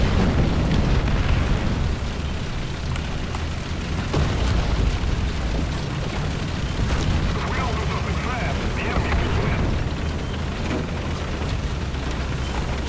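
A tank in War Thunder is hit and burns, with dense, continuous battle rumble and bursts of explosive booms throughout, while someone talks over the noise.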